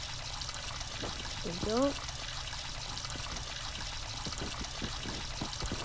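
Water runs steadily from a tap during face washing in a home bathroom, a continuous close trickle and pour heard under a person's brief spoken words.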